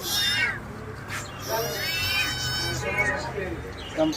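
Cats at a pet market in Bangladesh, including Persian and mixed breeds, meow repeatedly in drawn-out, rising and falling cries, close and fairly loud, while people talk in the background and market noise continues throughout.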